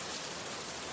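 Steady rain falling, a dense, even hiss of drops on surfaces that stays constant and fairly loud throughout, with no voices.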